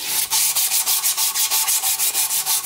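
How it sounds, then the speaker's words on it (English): A knife handle is sanded hard during knife making, producing loud, steady back-and-forth rasping strokes in a quick, even rhythm. "to sand the absolute crap out of this handle"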